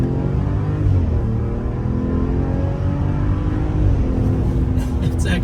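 A 2025 Ram 1500 pickup with the Hurricane engine accelerating, a steady loud low engine drone with rising harmonics heard from inside the cab, continuous throughout with no speech over it.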